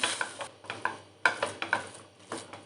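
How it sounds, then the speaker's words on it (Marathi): Paneer peda mixture with milk powder and cardamom being stirred and mashed in a pan, a series of soft scraping strokes with a few clinks of spoon on metal, close and unhurried, with no talking. "आता आपल्याला पूर्ण हे सगळं साहित्य मिक्स करून घ्यायचं आहे आणि मध्ये मध्ये याला असं मॅश करायचं आहे"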